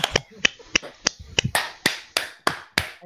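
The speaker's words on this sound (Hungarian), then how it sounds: "Mindenki tapsolja meg Kornét." Applause for the racer Korné after an F1 2012 retro league race: a sparse run of sharp, separate claps, about ten evenly spaced hits, loud and close like one or two people clapping.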